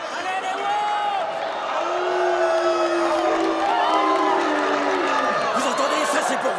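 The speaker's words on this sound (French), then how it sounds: "Vous entendez ces cris? Ouais. Ces cris sont pour vous." A basketball crowd at a high school game cheers and whoops steadily, with shrill shouts and voices rising over a continuous roar that stays loud throughout.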